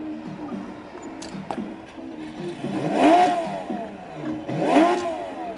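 A Porsche 935 race car engine revs twice in short bursts, each rise swelling and falling away, over a low idling rumble with faint background clatter.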